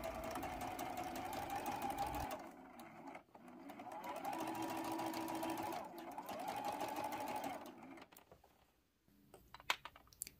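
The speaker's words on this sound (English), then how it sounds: "And then I'll sew all the way to the edge of these two units." A sewing machine stitching a partial seam on a T-shirt quilt, running in steady close bursts with short pauses between, then stopping, followed by faint handling clicks.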